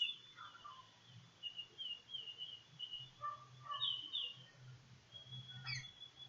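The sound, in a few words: unusual bird calls, chorus of birds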